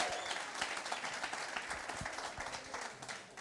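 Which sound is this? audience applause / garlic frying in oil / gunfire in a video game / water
audience applause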